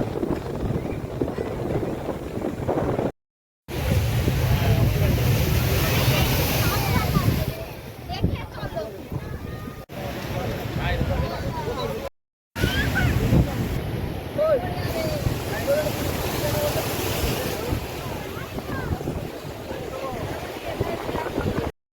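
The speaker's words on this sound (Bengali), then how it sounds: "এখন উত্তাল সাগর, জলোচ্ছ্বাস হচ্ছে" Rough Bay of Bengal surf surges at Digha during a tidal swell, a steady loud wash of breaking waves mixed with heavy wind buffeting, cut by two short gaps. Voices are heard talking over it.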